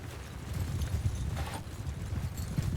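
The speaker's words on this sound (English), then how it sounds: "those horses going from left to right" Horses gallop across the field in Mount & Blade II Bannerlord, rapid hoofbeats drumming continuously at a moderate distance with a brief snort or whinny midway.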